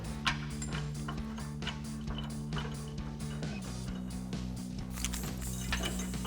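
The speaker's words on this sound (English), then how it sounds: "And now we'll get our spacer and thread those bolts in." A ratchet wrench threads suspension spacer bolts on a 2019-2024 Chevrolet Silverado 1500 during a lift kit install, giving a steady run of quick metallic clicks close by over a low constant hum.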